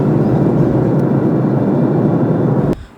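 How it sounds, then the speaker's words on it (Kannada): Steady loud roar of an airplane engine heard from inside the cabin during takeoff, a continuous broadband rumble that drops off abruptly near the end. "ಕಾದು ಕಾದು ಫೈನಲಿ ಫ್ಲೈಟ್ ಟೇಕ್ ಆಫ್ ಆಯಿತು"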